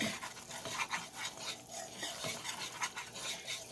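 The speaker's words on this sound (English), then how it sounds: "Just let that flour cook out of there. Just keep stirring it." Flour being stirred as it cooks in a pan over medium heat for a gravy, giving a steady scraping and rustling with faint utensil clinks against the pan, continuous and close, with no talk.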